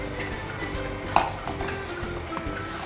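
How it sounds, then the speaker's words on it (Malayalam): Fried chicken pieces are stirred into masala in a pan, with steady sizzling and frying under scraping spoon strokes and a brief clink of utensil against the pan. "അതിന് ശേഷം നമ്മൾ ഫ്രൈ ചെയ്ത ചിക്കനെ ഇതിലോട്ട് ഇട്ട് കൊടുക്കാം. എന്നിട്ട് നന്നായി ഒന്ന് മിക്സ് ചെയ്യാം."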